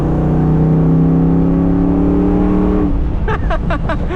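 A Ford Bronco fitted with a Coyote V8 holds a loud, steady engine drone with rising harmonics for nearly three seconds, then shifts to a rougher revving burst as the tone changes, all close and powerful.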